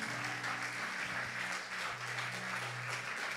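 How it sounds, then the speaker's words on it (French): Continuous applause fills a church gathering, a dense steady clapping from a crowd that stays even in level throughout. "On acclame pour le Saint-Esprit."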